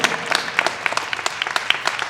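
Scattered applause from an audience at an urban league annual meeting, with dense overlapping claps that build briefly and hold steady for a couple of seconds.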